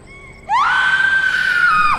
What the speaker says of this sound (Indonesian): Teriaknya kenceng banget ya?